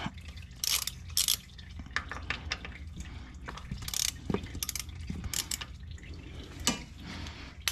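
A socket ratchet clicks in quick bursts while an oil filter on a 2023 Honda Talon 1000R UTV is loosened, with close, sharp metallic ratcheting and a few light clanks against a low background hum.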